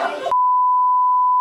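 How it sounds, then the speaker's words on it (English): A short burst of noise gives way to a steady, clear single-pitched electronic beep from a car alarm, sustained for over a second and fairly loud. "The alarm just went off, guys."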